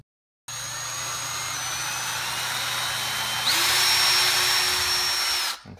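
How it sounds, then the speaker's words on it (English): A power drill whirs at a steady high pitch, then strains louder as it bites through a wooden cabinet for hardware installation, running continuously before winding down. "all we need to do is go ahead and line up our drill bit"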